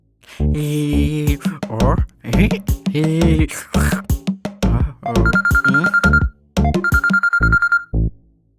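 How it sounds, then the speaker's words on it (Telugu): A phone rings on an outgoing call, a short electronic ringback tone repeating twice, played over the louder melodic phrases of a ringtone song, with no voices. "ఆ సుమంత్ గారు ఏడున్నాడో కాల్ చేయి."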